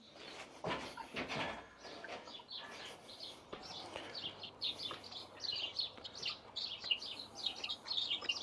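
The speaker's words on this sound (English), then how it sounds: "We've got the birds tweeting." Birds tweeting outdoors, picked up through a wireless solar-powered Reolink CCTV camera microphone: many quick, thin chirps scattered throughout at moderate distance over a soft hiss, with a brief rustling burst near the start.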